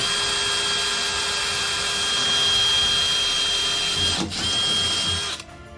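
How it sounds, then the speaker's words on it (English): A steady, high-pitched power drill whine runs for about five seconds while drilling a hole to secure a frame to rails, briefly dipping near the end before cutting off, close and loud with no talking. "We're gonna start off by drilling a hole."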